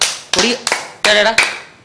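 An audience gives a few short bursts of clapping, five sharp separate rounds within a couple of seconds, with voices mixed into the claps.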